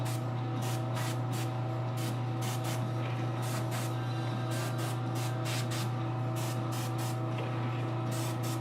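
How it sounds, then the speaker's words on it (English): An airbrush or spray gun hisses in steady repeated short bursts while gold parts are painted, over a constant background hum. "So let's spray that out."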